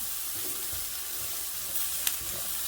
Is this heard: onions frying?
yes